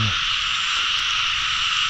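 A dense chorus of many farmed frogs croaking at a pond, a steady, loud, overlapping drone that holds throughout with no talk.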